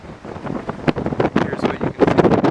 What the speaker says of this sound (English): It's a little windy in this area.